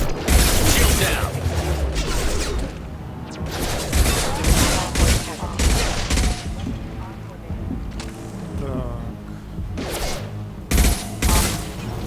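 Combat mechs open fire in the video game Mass Effect 2, dense bursts of gunfire and mechanical clatter with loud booms, mixed with in-game voices talking.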